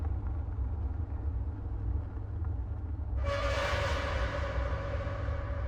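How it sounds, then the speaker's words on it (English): A car speeding toward a house in the horror game Tiny Bunny: a low, steady engine rumble that swells abruptly into a louder, brighter roar partway through as it draws near. "The car sped towards our house."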